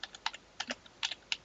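A computer keyboard clatters with quick, uneven keystrokes, about eight distinct clicks in a short burst, close and fairly quiet.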